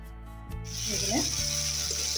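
Potatoes sizzling in hot oil with fenugreek, mustard, fennel and cumin seeds, a steady bright frying hiss rising after a brief quieter start, close and continuous.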